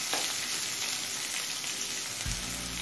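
Onions frying in oil in a pan, a steady close hiss of sizzling throughout with a low clunk near the end, no voices.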